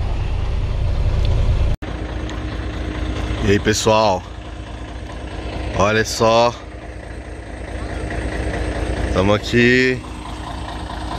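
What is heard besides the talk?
truck engine running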